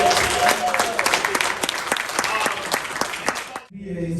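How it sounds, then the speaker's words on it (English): An audience at a live mastermind event claps in a steady, moderately loud round of applause that stops abruptly near the end. "All right, round of applause for you guys."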